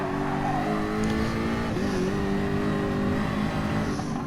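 A race car engine in a racing video game at Fuji Speedway drones at high revs as the car runs in the draft, a steady, buzzing whine with slight pitch shifts, alone without talk.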